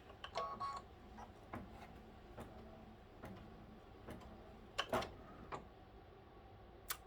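An embroidery machine stitches quilting on a velveteen pumpkin quilt block, giving faint, irregular ticking and tapping clicks with a few louder knocks, close and alone without talk.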